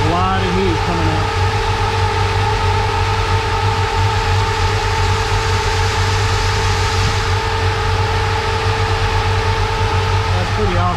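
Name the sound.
electric cooling fan running on a custom 1955 Chevy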